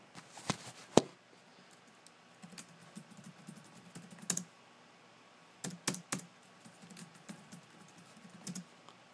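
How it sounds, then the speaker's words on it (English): Keys tapped on an HP DV7 laptop keyboard while entering a password, scattered clicks in short irregular bursts with pauses between, close and fairly quiet against a faint room hum. "I type in my password, which I will"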